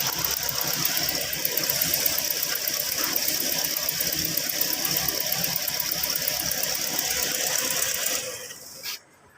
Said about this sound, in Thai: ตอนนี้สตาร์ทติดแล้วเดี๋ยวลองดับอีกทีนะครับ